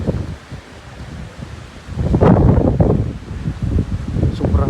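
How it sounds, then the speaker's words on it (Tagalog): Very strong blizzard wind gusts roar across the microphone outdoors, swelling into a louder buffeting rush midway and staying blustery to the end. "Sobrang lakas ng hangin."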